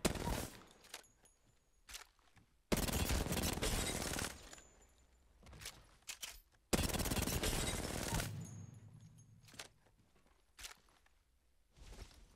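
Automatic gunfire in a shooter game played with a controller: two long sustained bursts of rapid shots, separated by scattered single shots, footsteps and quieter gaps.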